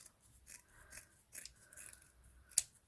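Scissors snip through faux leather while a bow is being trimmed: a few soft, close cuts spaced apart, ending in one sharper, crisp snip, with no talking.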